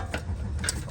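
Quick ratchet clicks sound up close as a wrench tightens a new O2 sensor on a Ford E150, a short burst of mechanical ticking with no speech.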